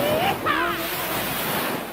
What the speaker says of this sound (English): What's the sound of hundreds of pounds of water pressure behind you?